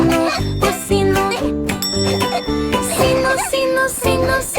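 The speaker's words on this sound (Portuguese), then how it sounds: "Sino, sino, sino, sino ressonante." A small bell jingles and tinkles in a playful rhythm, woven through a bright children's song with music playing throughout.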